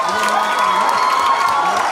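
Crowd at a junior school concert cheers and claps in a steady, dense wash, with shouts and whoops rising over continuous applause for the full two seconds.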